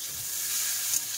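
Food sizzling and frying steadily in a pan, a dense continuous crackle heard close up with no talk over it.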